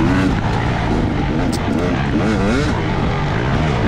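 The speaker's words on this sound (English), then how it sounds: "Riding a YZ450." A Yamaha YZ450 dirt bike engine drones loudly and steadily as it is ridden through tight woods during a Sandy Clam GP race, its pitch wavering and warbling as the throttle rises and falls.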